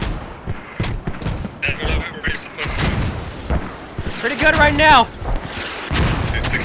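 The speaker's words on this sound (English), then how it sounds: "Mortars being launched." Mortar fire in the video game Squad: heavy booming launches and blasts, loud and repeated, under and between a commentator's voice, with a rising whistling tone midway through.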